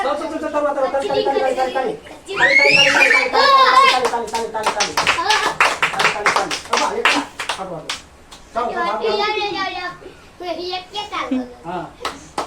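Quick sharp hand claps in a fast rhythm, close and loud, running under excited children's voices talking and chanting throughout.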